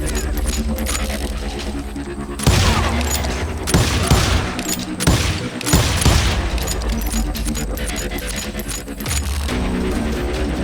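Rapid gunfire from Call of Juarez: Gunslinger, with bursts of repeated shots cracking over a dense game soundscape, loud and close, the volleys swelling and easing across the stretch with no talk.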